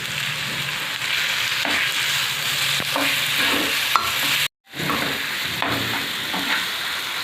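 Roasted eggplant frying in a spiced tempering for village-style bharit, with steady sizzling and spatula stirring scrapes throughout, briefly cutting out midway before resuming.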